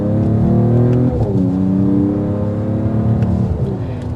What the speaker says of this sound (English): The exhaust livens up.